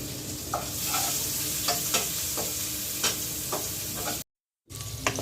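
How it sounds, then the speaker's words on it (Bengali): Onions frying in oil left over from frying fish sizzle steadily while a spatula scrapes and stirs the pan in repeated strokes, with a brief cut to silence near the end. "মাছ ভাজা তেলের মধ্যে পেঁয়াজ দিয়ে দিচ্ছি।"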